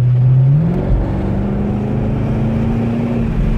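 A Chevrolet Camaro SS with a 6.2 V8 runs close up, its low engine note dropping after an early rev and then holding a steady, gentle hum under light throttle.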